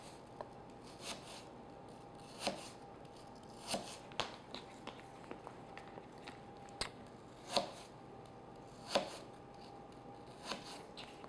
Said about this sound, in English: then just thinly slice your apples